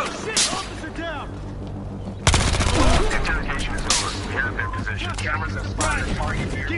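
Rapid gunfire in Battlefield Hardline multiplayer, a sudden loud burst of repeated shots breaking in partway through and continuing over shouted voices and game chatter.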